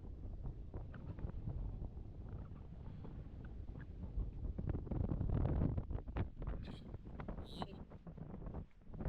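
Strong wind gusting hard outdoors near a storehouse, a loud, continuous rumbling roar with buffeting against the microphone that stays steady and full throughout.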